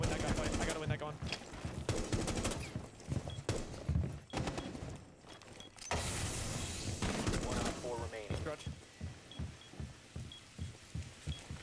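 A Rainbow Six Siege gunfight with rapid bursts of automatic fire and scattered single shots, loud and close, mixed with game noise and a voice talking over parts of it.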